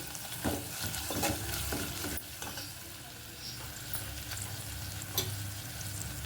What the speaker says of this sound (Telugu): అల్లం వెల్లుల్లి పేస్ట్ అయితే వేసుకుంటున్నాను. బాగా ఇలా కలుపుకోవాలండి. కొంచెం ఇవి కూడా ఆయిల్లో అయితే వేగిపోవాలి